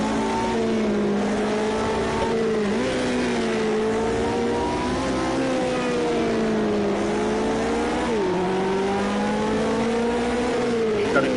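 A vintage Formula One car in a racing video game revs hard and accelerates at Donington Park, its engine pitch climbing and dipping through gear changes, loud and continuous throughout.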